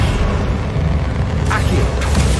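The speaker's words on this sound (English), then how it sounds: "Expelliarmus." Expelliarmus, a disarming spell in Hogwarts Legacy, goes off as a loud booming magical burst with a couple of sharp blasts over a dense game soundscape.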